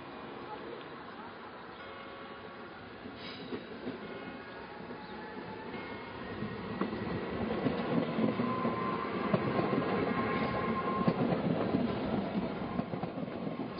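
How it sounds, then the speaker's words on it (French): A small red Stadler suburban train of the BLS network rolls past near Bern, a steady rumble building as it approaches, with faint rail clatter and a voice talking over it. "Des petites rames Stadler rouges de l'ancien réseau RM, aujourd'hui BLS, assurent le service de la ligne S52 de la banlieue de Berne."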